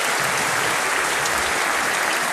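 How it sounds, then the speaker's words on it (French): A rugby crowd at a Castres Olympique player and jersey presentation breaks into sustained, dense applause, loud and steady throughout with no pause. "Ouais, vous avez le droit d'applaudir."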